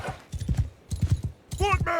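Horse hooves clip-clop in quick clustered beats during a battle in the Mount & Blade II Bannerlord video game, with a short voiced shout near the end.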